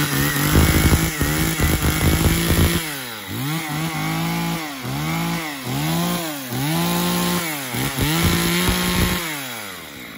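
An Echo 35A chainsaw, a 35.2 cc household saw, starts and runs close by. A rough rasping idle is followed by repeated rising and falling revs in a steady cycle, loud, with no talk over it.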